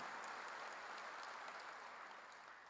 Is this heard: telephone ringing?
no